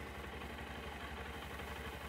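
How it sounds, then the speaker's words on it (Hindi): Honda SP125 motorcycle engine idling after a quiet start, a low steady throb with fine even pulses, faint and continuous with no talk. "अब मैं इसे स्टार्ट करता हूँ और बहुत साइलेंटली गाड़ी स्टार्ट होती है"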